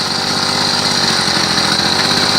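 A 49cc motorized bike moped engine idles steadily and loudly up close, its fast rapid putter continuous throughout with a high whine above it, and no voices.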